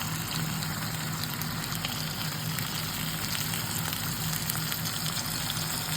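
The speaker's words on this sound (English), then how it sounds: "I'm frying the sausages." Sausages fry in hot oil in a home kitchen, giving a continuous crackling sizzle at moderate volume with no voices over it.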